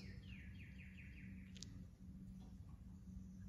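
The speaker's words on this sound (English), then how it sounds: "There's beautiful birds singing." Small birds chirp and sing faintly outdoors on a spring day, a short run of descending tweets followed by a sharp call, over low steady background rumble.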